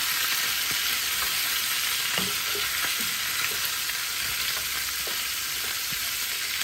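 Peppered gizzard frying in a pan gives a steady, loud sizzle and hiss throughout, with a few faint scrapes and pops underneath and no talking.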